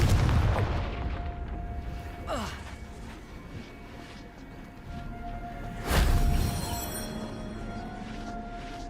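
Confringo spell blasts in the video game Hogwarts Legacy: two loud booming whooshes a few seconds apart over a low rumbling game ambience, with breathy effects in between.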